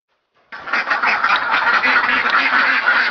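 Ducks on a laying-duck farm quack continuously in a dense, loud chorus that begins abruptly after a brief silence and carries on without pause, with no talk.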